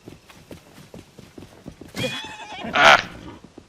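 A horse in the video game Tears of the Kingdom clip-clops on its hooves in a quick, steady patter, then gives a loud, brief whinny near the end, close and clear with no talking.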